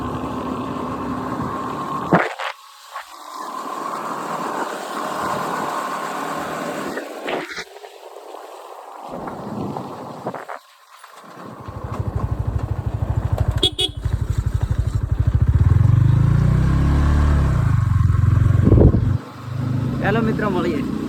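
A friend's Yamaha R15 V4 motorcycle rides along, its engine droning steadily and rising to a loud, close rumble in the later half, with speech at times over it.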